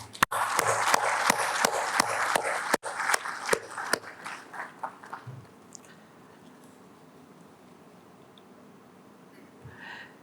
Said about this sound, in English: Let us show us our heartfelt appreciation and gratitude with a warm round of applause